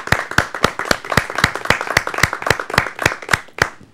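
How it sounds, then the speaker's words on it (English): Rhythmic clapping from a Toastmasters audience after a speech, loud, close claps falling in a quick, steady, almost unison beat, about fourteen sharp hits before a brief pause and a few final claps. "let's please applause if you think Mark gave an outstanding speech"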